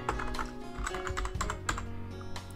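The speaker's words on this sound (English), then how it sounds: "I just finished typing the question" Rapid keystrokes clatter on a computer keyboard, an uneven stream of clicks at close range with no talking.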